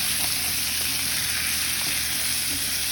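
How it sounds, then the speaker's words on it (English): Sofrito frying and being mixed in a pan, giving a loud, dense, continuous hiss and crackle with faint scraping from the stirring underneath. "There we go with the sofrito. Mix that up."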